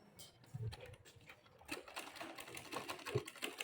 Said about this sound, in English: start sewing from this side now